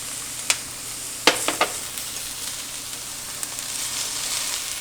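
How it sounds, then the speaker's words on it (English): Garlic hits a hot pan with onion already in it and sizzles in a steady hiss, with a few sharp clinks of a utensil stirring against the pan. "Now I'm going to add my garlic."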